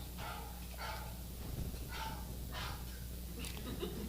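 A dog barks and yips in several short bursts, faint and somewhat distant, behind a steady low hum of an indoor setting.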